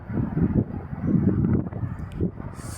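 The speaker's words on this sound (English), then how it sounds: "It's quite windy as well." Wind buffets the microphone outdoors while someone walks along a road, a muffled low rumble that rises and falls in gusts.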